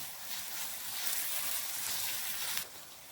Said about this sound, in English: So you have to be stir frying this.